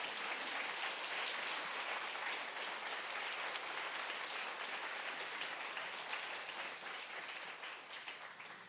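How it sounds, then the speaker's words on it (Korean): A church congregation at a Sunday evening service claps warmly to welcome a visiting pastor, a thick, continuous wash of applause that stays even and fades slightly at the end. "나오실 때 우리 큰 박수로 맞이하겠습니다"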